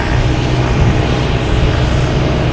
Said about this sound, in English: we have this Cape Air here making all the racket, making the jets sound like the prop planes